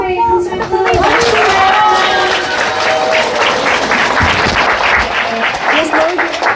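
An audience applauds for the ladies at a Korean religious gathering, with clapping mixed with crowd chatter and a voice speaking over it, loud and sustained throughout.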